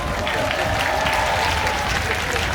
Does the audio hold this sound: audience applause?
yes